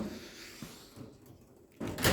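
A tool box drawer, the air tool drawer, sliding and knocking open or shut, with a few light clunks followed by a louder rolling slide and bump at the end, close by.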